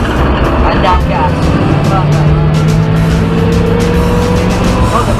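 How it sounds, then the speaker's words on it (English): Ford Mustang GT350 on a track day, engine note climbing hard under acceleration out of a corner with faint tire noise, loud and close, while a driver talks over it. "Off those brakes, roll the car through the corner, no gas yet, and down gas"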